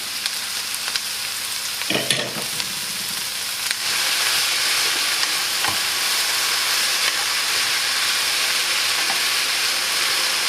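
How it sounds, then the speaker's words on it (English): Onion, garlic and vegetables fry in a pan with a steady, close hissing sizzle; a brief scrape of stirring comes early, and the sizzle swells louder partway through. "add the onion and the garlic. Start frying it about 1 minute. Next, add the vegetables and cook it about 2 minutes"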